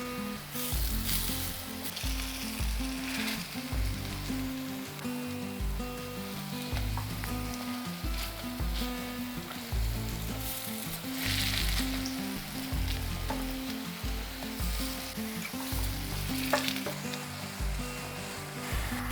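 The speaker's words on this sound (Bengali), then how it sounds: "আমি এপিট করে উল্টে একটু লালচে করে ভেজে নিয়েছি।" A poppy seed patty fries in a pan with a steady, close, lively sizzle that swells and eases in waves throughout, with occasional scraping and stirring as it is turned over; no voices are heard.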